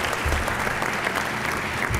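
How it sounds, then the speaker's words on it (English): Audience applause at a media excellence awards ceremony, a steady dense wash of clapping across the whole stretch, loud and close, with no speech over it. "Give him a round of applause."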